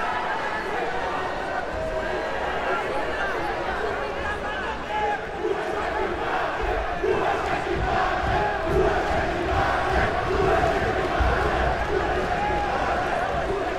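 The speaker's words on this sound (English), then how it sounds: "This crowd is locked in on this match. It got so loud in here during that transition," Loud, roaring crowd at a jiu-jitsu World Championship match, a dense steady wall of voices and cheering that stays loud throughout, with some shouting mixed in.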